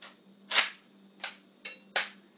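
Four fairly soft, crisp cracks from a high-powered rifle firing 220 grain subsonic ammunition, spaced unevenly over about two seconds against a quiet background.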